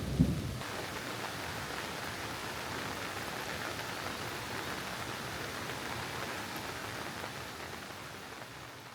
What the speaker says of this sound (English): the storms, thunder and lightning. It's not really the best day to be up here.